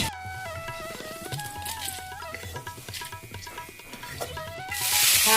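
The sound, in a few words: spinach frying in a pan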